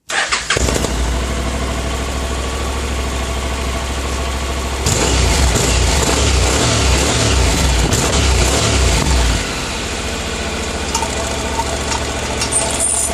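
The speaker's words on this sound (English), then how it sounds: "you can tell what the original exhaust sounded like" A Honda NC700X motorcycle with its stock exhaust muffler idles up close, a loud steady low rumble that briefly rises in revs midway before settling back to idle.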